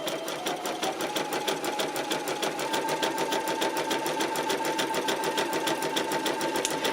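Domestic sewing machine stitching fabric pieces for a soft baby book, running in a steady, rapid rhythmic whir for the whole stretch, close and alone with no talk.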